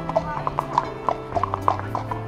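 Horse hooves clip-clop in a steady walking rhythm on an outdoor ride back to a riding stable, close and clear, with a voice talking underneath.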